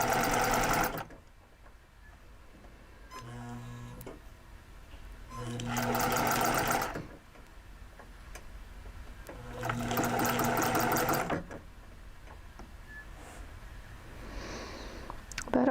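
Sewing machine stitching a narrow seam in fabric, running in three loud bursts of rapid mechanical whirring separated by quieter pauses, with no talk.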